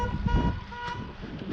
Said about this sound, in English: must have set off some car alarm back there